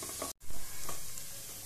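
Coriander leaves being stirred into a spice masala frying in a pan for aloo tikki, a close, steady sizzle with scraping stir strokes and a brief drop near the start.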